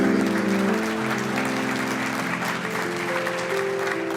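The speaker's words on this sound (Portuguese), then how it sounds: "Receba os aplausos" A church congregation applauds in a dense, steady clapping wash while sustained organ or keyboard tones play underneath, with no talk.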